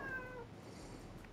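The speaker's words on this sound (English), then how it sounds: "Usually she does the deep meow once she wants something" A house cat gives a short, faint meow at the start, followed by quiet room tone. No one speaks.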